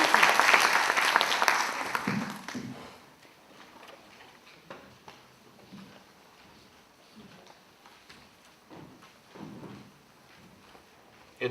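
A burst of clapping from a crowd at a student council assembly opens, loud at first, then fades within a few seconds into scattered faint taps and room murmurs.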